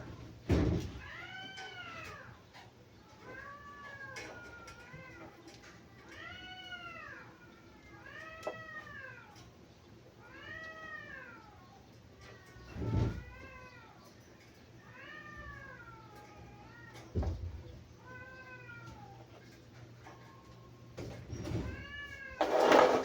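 A cat meows repeatedly, about a dozen clear rising-falling calls spaced a second or two apart, close and fairly loud, with occasional knocks and thumps in a quiet room around it.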